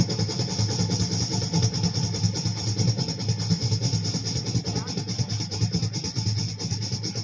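A voice imitates a helicopter in flight with a steady, continuous droning whir that holds at an even loudness throughout.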